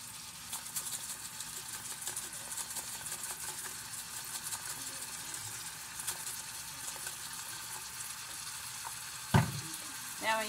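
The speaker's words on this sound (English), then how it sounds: "I got my hamburgers going." Hamburger meat fries in a pan with a soft, constant sizzle at low level, and one sharp clatter of a utensil or pan comes near the end.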